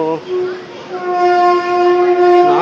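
A train standing at platform 5 of Kochi's central railway station sounds a sustained tonal horn for about two seconds, loud and close, with a brief voice at the start.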